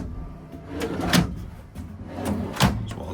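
Two or three wooden cabinet drawer thumps at intervals in a 2023 Coachmen Beyond 22C camper van, each a short knock with a brief slide, fairly close in a quiet room.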